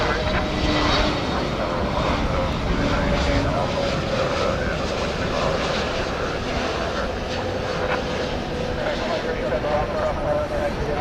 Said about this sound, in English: it's time now for another 757 liftoff